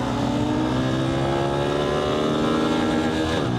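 Small novelty motorbike engine revving steadily up close, a buzzy, loud drone that rises in pitch and then dips near the end as it shifts into second gear, with no talking over it.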